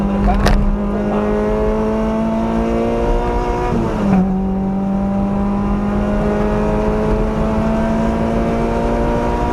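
A race car with a 2ZZ engine accelerates at full power on the Donington circuit, its engine note rising loud and steady from inside the car, with a brief dip before pulling on strongly.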